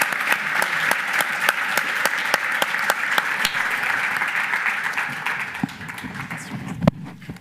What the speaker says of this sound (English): please, everyone, join me in applauding our panel for their great contribution